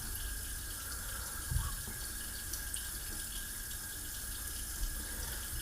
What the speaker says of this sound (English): let me just wet my hands again.